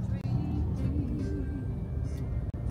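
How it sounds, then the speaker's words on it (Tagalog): Car traffic crawls in a heavy jam on the way to a tennis tournament, a steady low rumble of idling engines heard close from inside a vehicle. "Super traffic guys."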